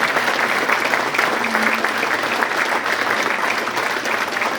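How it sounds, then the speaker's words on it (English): An audience at an athletic director introduction event at West Point gives steady, dense applause, loud and continuous from start to finish. "Let's clap for that."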